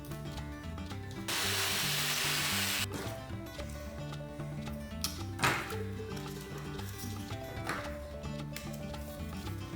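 A second piece for a rabbit cart is cut in one brief, harsh burst lasting under two seconds, heard close over steady background music, followed by a few faint knocks.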